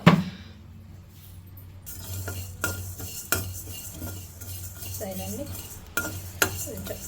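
Spices are stirred into a gongura pickle with a metal spoon, giving close scraping and clinking strokes against the pot at irregular intervals, moderately loud with no talking.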